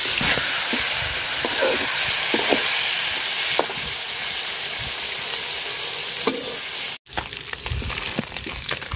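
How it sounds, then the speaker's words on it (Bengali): Singhi (stinging catfish) frying in hot oil in a home kitchen, a loud steady sizzle and crackle running throughout with small spatters and stirring scrapes, briefly cut off near the end before resuming. "তো তেল গরম হয়ে গেছে, মাছ দিয়ে দিলাম।"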